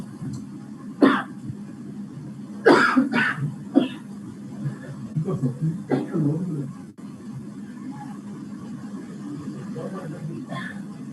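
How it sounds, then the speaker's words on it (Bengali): A person coughs in several harsh bursts, with a throat clear and a couple of quieter coughs, close by, in an otherwise quiet room. "আমার আসলে এখনো কাশিটা রয়ে গেছে, কাশিটা এখনো যায়নি"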